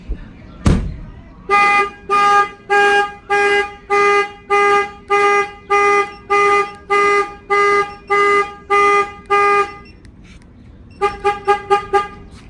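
A Viper car alarm, paired with a Clifford 3105 system and installed in Miami, Florida, goes off when its shock sensor is triggered. After a sharp thump, a loud run of evenly spaced siren blasts follows, then a pause and a quicker burst of chirps.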